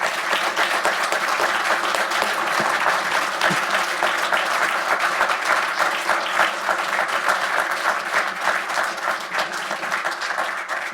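Audience applause at the close of the Andrew Bent Lecture by Kim Williams, sustained dense clapping from a hall crowd, steady and loud throughout.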